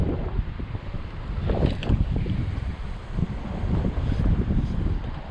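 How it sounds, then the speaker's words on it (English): Steady wind gusting across an open beach where someone is fishing for garfish, a continuous low roar with buffeting microphone noise that swells and eases throughout, with no talking. "The wind's coming that way, so I'll cast over here."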